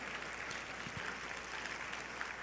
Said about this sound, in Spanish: Denle un aplauso al Rey de Reyes, dénselo con ganas